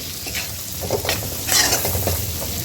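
Beetroot cutlet mixture sautés in a little oil in a pan, giving a steady close sizzle with scraping stirs of a spoon, and no one speaks.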